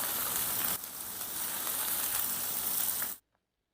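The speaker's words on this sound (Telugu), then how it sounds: "మన ఈ క్యాలీఫ్లవర్ ముక్కల్ని బాగా ఫ్రై చేసుకుందాం" Cauliflower pieces sizzle and crackle steadily in hot oil close by, a continuous frying hiss that cuts off abruptly near the end.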